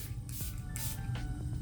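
Makeup setting spray misted from a bottle in a few quick hissing bursts, close and soft, with faint rubbing sounds between sprays.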